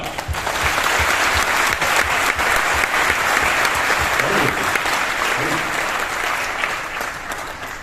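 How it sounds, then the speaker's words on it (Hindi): Loud, sustained applause from a large audience at a company event in a hotel hall in Lucknow, dense clapping that holds steady for about eight seconds, with faint voices murmuring beneath it. "बहुत जोर की ताली"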